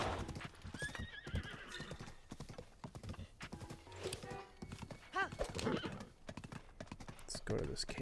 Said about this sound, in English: Being chased by bokoblins on horses.